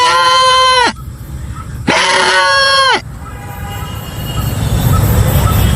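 A man imitates a goat with two long, wavering bleats, loud and close, each lasting about a second with a short pause between them, followed by a faint low rumble.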